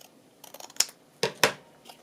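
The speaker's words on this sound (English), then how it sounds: "I might just trim them off there" Scissors snip paper while trimming pages for a ringbound journal: several quick, close cuts, with the last two crisp snips the loudest, and no talking.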